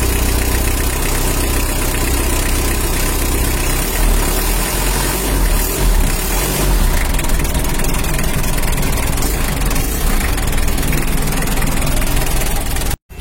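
A Mitsubishi L300 diesel engine idles steadily and close by with a continuous rough, rattly clatter from a leaking exhaust, running unbroken until it cuts off abruptly at the end.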